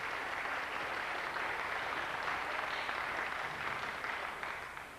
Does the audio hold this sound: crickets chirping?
no